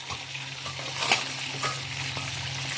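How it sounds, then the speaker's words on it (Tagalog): Calamares and liver frying in a pan, a steady sizzle running throughout with a few light stirring clicks, close and moderately loud, with no talk. "Kasi nagluto ako ng calamares ito."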